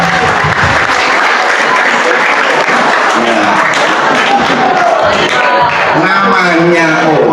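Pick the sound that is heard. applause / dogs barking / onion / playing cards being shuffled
applause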